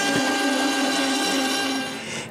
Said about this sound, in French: Ça prend pas mal de passes de coupe, ce qui fait que c'est pas très rapide pour couper ce trou.